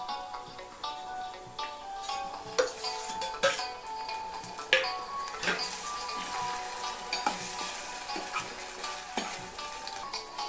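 Tomatoes fry in a pan with a steady crackling sizzle, broken by sharp clicks and scrapes of a utensil against the pan, fairly close and alone with no voices.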